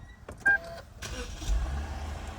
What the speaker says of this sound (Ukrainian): Так, запускаємо двигун.